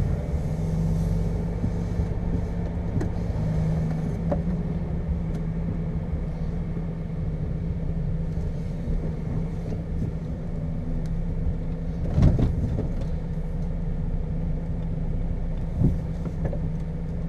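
A truck engine idles and rumbles steadily as the rig reverses onto a trailer in a tight yard, a continuous low drone at moderate distance with a brief mechanical knock midway and no talk.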